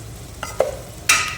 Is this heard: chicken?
no